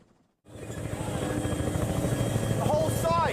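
Inside a helicopter flying over New York on 9/11, the rotor and turbine roar starts abruptly and holds loud and steady with a pulsing thump, while voices sound faintly over the cabin noise.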